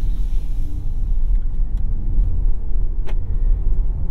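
Steady low road rumble from inside a 2021 Jeep Grand Cherokee L cruising on the highway in aero ride mode, loud and continuous with tire and wind noise and a faint tick or two.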